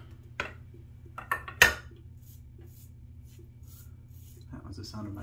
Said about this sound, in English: That was the sound of my brush falling into my bowl.